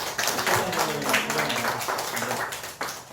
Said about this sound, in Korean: 이분들이 박수하겠습니다.